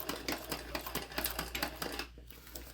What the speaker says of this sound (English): So as long as I have it started and held open, I'm going to back stitch.